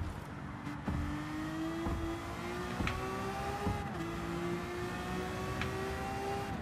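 A Lamborghini VGT race car in Gran Turismo on Tokyo Expressway, its engine note sliding downward as it downshifts into third gear, with a steady close whine and a brief blip, no talking.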